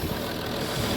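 A Range Rover L322 engine idles steadily and close by, a dense low rumble with an intermittent misfire, heard alone without talk.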